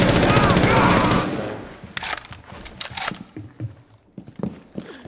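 Sustained automatic weapon fire in Rainbow Six Siege, loud and dense for about a second, then scattered fainter shots and clicks trailing off.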